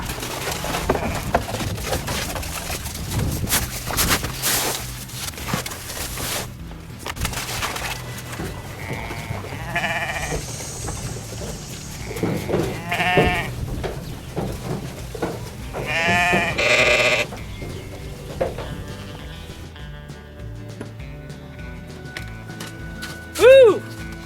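Freshly shorn sheep bleat repeatedly in uneven bursts of calls, with louder cries clustered midway through and a strong single call near the end, amid background farmyard noise.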